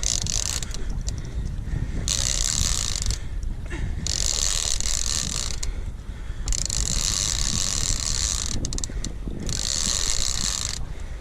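Fishing reel cranked hard while fighting a big thresher shark off Montauk, giving repeated bursts of ratcheting, whirring winding, each a second or two long, over steady boat and water noise.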